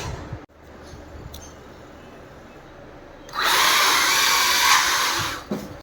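An MJX Hyper Go RC car's electric motor starts up after a stretch of quiet, giving a loud, steady high whine that holds for about two and a half seconds and then cuts off.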